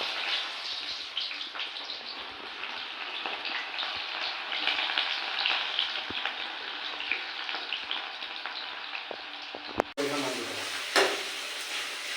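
Onion and meat frying in hot oil in a kerahi, a steady close crackling sizzle throughout, broken near the end by brief stirring clatter and a voice.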